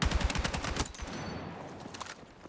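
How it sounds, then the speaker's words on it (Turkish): A rapid automatic weapon empties its magazine in the Battlefield 6 video game, with a dense, loud stream of shots during the first second that trails into an echoing tail and fading ambience. "Hemen bir şarjör daha boşaltalım."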